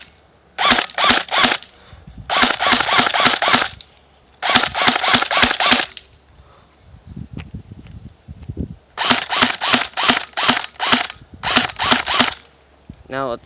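An airsoft AEG rifle fires semi-auto shots at trees, close and loud, in quick runs of sharp mechanical cracks separated by short pauses and quieter handling noise.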